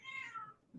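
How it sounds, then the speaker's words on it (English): A house cat gives a single short meow close by, faint and rising then falling, with a low thump at the end. "hey, that's my cat, Ruby"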